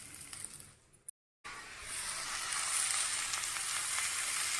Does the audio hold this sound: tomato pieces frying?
yes